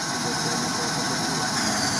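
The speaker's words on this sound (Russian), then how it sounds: "Мотор хорошо работает." A car engine drones steadily throughout, constant and fairly loud, with a broad rumbling hum and no voices over it, during off-road driving.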